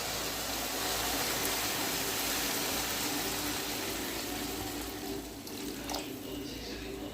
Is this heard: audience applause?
no